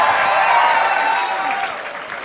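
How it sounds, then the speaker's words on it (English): A college Mr & Ms Pulse contest audience breaks into applause mixed with cheering and voices. A dense, loud wash of noise holds steady, then tapers slightly toward the end. "A big applause."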